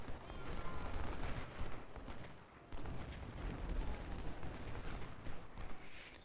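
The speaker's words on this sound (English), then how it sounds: "Let's shoot the line infantry." Infantry rifle fire in the video game Ultimate General: Civil War, rolling volleys of musket shots crackling together into a dense, rumbling fusillade, faint and distant with a brief lull midway.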